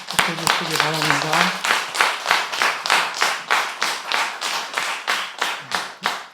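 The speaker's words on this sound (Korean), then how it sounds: "여러분 큰 박수로 축하해 주시기 바랍니다" A church congregation claps in unison during a Sunday service, a steady rhythmic beat of many hands at close range, with a voice speaking over the first couple of seconds.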